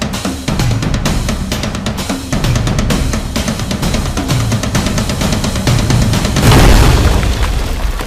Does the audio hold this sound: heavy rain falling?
no